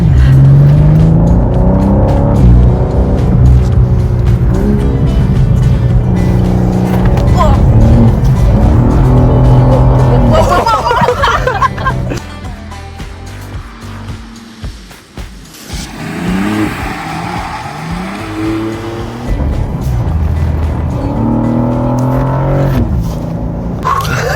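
BMW M2 on new tyres sliding through a corner on a road, engine revving loudly with rising and falling pitch and some tyre noise, with a voice talking over parts of it.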